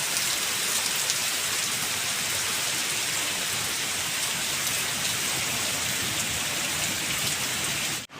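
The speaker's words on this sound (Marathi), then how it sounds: "पाऊस ज्याने जोर पकडला आहे मित्रांनो" Heavy first monsoon rain pours at Kalvi Bandar near Vengurla in Konkan, making a loud, dense, unbroken hiss of drops striking surfaces close by. It continues steadily to the end without voices.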